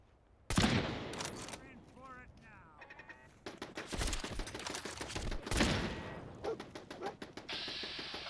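Automated turrets in the VR game Fallout 4 fire in rapid bursts of gunfire with sharp, dense crackling volleys, mixed with other game sounds and a voice.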